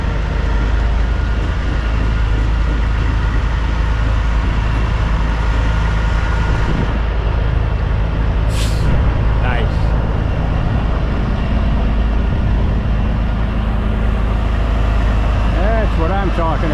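A 1966 Kenworth K100 cabover semi truck idles steadily, its engine a loud, constant low rumble filling the whole stretch, with a brief higher rattle midway and no break in the drone.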